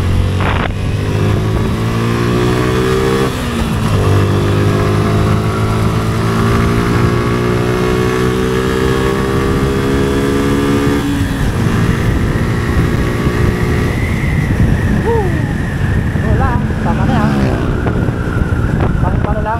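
Suzuki Gixxer 155 motorcycle engine riding through city traffic, loud and close with steady harmonic drone rising and falling through gear shifts, wind buffeting the microphone throughout.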